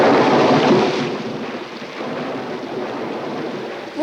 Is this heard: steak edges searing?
no